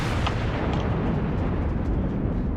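Heavy naval gun salvo from a warship in World of Warships, a dense continuous rumbling boom of artillery fire filling the whole moment, loud and close with no talk.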